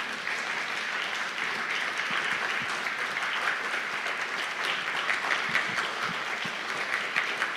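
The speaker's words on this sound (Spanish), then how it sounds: "Con fuertes aplausos le recibimos." A church congregation gives loud, sustained applause to welcome a visiting pastor at a Bible conference, a dense even clapping that lasts throughout with no talking over it.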